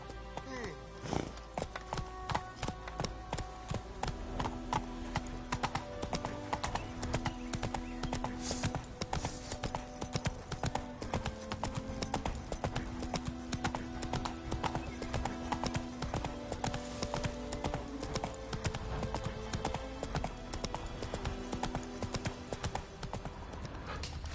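A horse gallops in The Witcher 3 with a continuous rapid clip-clop of hooves, close and steady throughout, while game music and background sounds carry on underneath.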